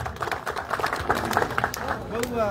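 An audience claps steadily to welcome young honorees at a stage event, a dense patter of hands running under a person speaking.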